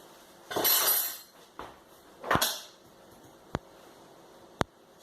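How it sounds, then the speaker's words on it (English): A knife chops through a carrot on a cutting board during a home cooking lesson, giving two sharp, close knocks spaced about a second apart after some softer rustling, with no talking. "I'm going to chop the carrot."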